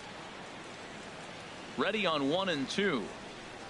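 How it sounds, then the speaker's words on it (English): Steady rain hisses in a PS4 baseball video game, an even wash of noise that runs throughout, with a voice speaking briefly over it midway. "The rain is intensifying right now."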